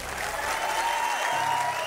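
An audience at a motivational talk breaks into brief, dense clapping, a steady burst of many hands heard close and evenly loud throughout.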